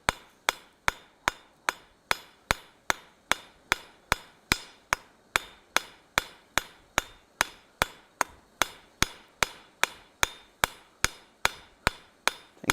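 A hammer strikes a hot steel spatula at the forge to texture it, with about thirty sharp, evenly spaced metallic blows ringing close and loud in a steady rhythm, with no talking.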